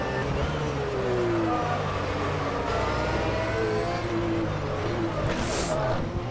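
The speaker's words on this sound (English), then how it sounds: "rev up your engines" Steady race car engine drone with harmonic pitch sweeps rising and falling as motors rev during a race, continuous and fairly loud, with faint talk mixed in.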